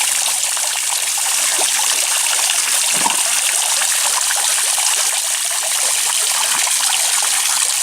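River water trickles and splashes steadily into a plastic bottle held in the current, a close, continuous burbling stream with one brief gulp partway through and no talking.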